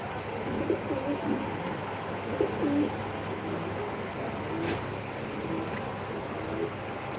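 Pigeons sitting on eggs in a loft coo softly in low, repeated murmurs against a steady background hum, with a few faint clicks and rustles.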